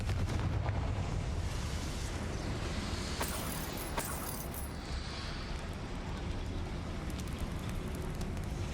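Confringo blasting spell cast in the video game Hogwarts Legacy, a dense, roaring fiery rumble that stays loud and steady throughout, with a couple of sharp crackling bursts partway through.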